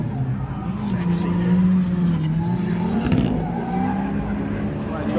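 Drift car at the Matsuri drift event sliding around a corner, a sustained engine drone with tire noise at middle distance, continuous and fairly loud, with people talking nearby.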